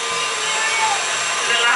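Electric mixer whizzing cake batter, a loud steady high-pitched motor whine held close, with voices speaking underneath.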